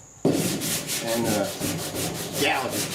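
Block sanding primer surfacer on the dash of a 1966 Ford F100 truck, a close, loud rhythmic rasping of back-and-forth strokes, with a brief spoken remark.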